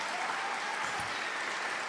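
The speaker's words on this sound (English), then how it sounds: "So I give you applause already." Applause from a podcast studio audience, steady and fairly faint throughout the short stretch.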